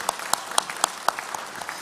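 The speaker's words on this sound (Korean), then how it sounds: "이 모든 사역을 이끄신 하나님께 영광의 박수 올려드리겠습니다." A congregation claps together during a Korean church Sunday worship service, a short burst of steady, evenly spaced handclaps heard at moderate distance in a reverberant sanctuary.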